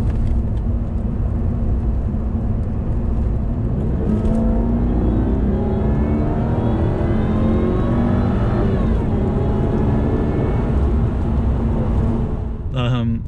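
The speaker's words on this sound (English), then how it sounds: "Supercharger time." A 2001 Jaguar XKR accelerates hard, its supercharger whine climbing steadily in pitch over a loud, continuous engine drone heard from inside the car.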